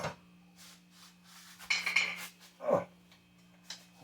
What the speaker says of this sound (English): So I'll get one of the restaurant slotted spoons out. And I'll get a spider out.